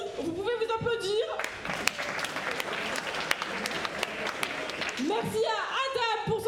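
A talent show audience bursts into a few seconds of dense, steady applause, framed by a voice speaking just before and after.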